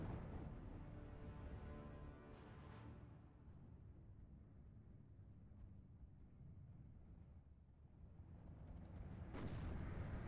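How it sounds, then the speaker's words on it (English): Artillery barrage in the Steel Division 2 war game: a dense, continuous rumble of overlapping booms and blasts, loud throughout, swelling at the start and again near the end. "So where did that barrage come from?"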